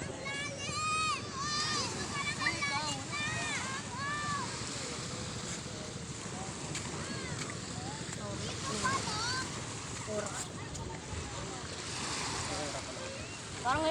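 Beach waves wash and rumble steadily under gusty wind buffeting the microphone, a continuous near surf bed while people talk over it throughout.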